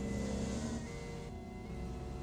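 Lamborghini engine in the Roblox video game, a steady synthetic motor drone with a faint revving edge that dips briefly midway, playing alone at low level with no talk.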